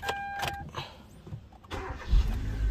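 A 2013 Kia Cerato's engine is started after a couple of faint clicks and rustles. It cranks and catches near the end, then settles into a low rumble, fairly quiet and close.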